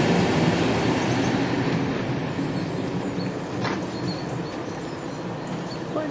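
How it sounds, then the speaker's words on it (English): Train pulling out of Westgate station, a steady rolling rumble with wheel and carriage noise that holds loud and close throughout, with no talk. "Train departing."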